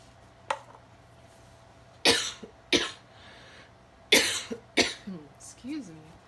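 Several sharp coughs in close succession, loud and near, followed by a throat clearing.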